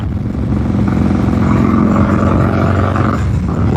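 A 1993 Harley-Davidson Softail's exhaust, recorded up close, gives a loud, steady, deep rumbling roar with a slight swell in the middle, and no voices over it.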